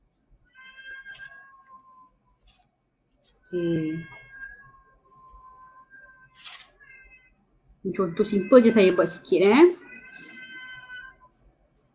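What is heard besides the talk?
cat meowing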